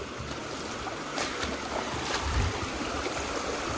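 On-foot crossing of the Choral river on the Narmada parikrama route, with steady close rushing and splashing of shallow flowing water around the legs and a brief heavier slosh midway, with no talk.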